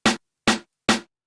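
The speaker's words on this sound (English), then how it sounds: "And then I added the snare." Three crisp snare drum hits at a steady, even pace, each bright and snappy with a short decay and silence in between.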